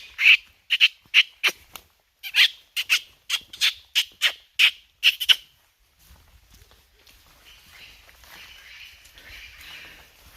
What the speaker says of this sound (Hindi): पंछियों से मैं भी बात कर रहा हूँ